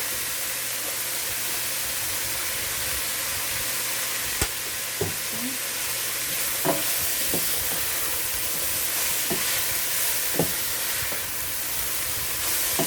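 Shrimp fried rice stir-frying with sesame oil in a hot pan gives a steady, close sizzle and hiss throughout, with occasional sharp clicks of a utensil scraping and tossing the rice; no voices.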